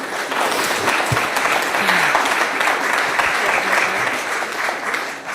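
Sustained audience applause at a school committee meeting, a dense, steady wash of many hands clapping continuously at fairly close range, filling the room for several seconds.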